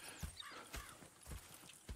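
A horse's hooves clip-clop slowly on the ground in a Red Dead Redemption 2 game scene, a few soft, heavy thuds spaced irregularly, faint and near, with no talk over them.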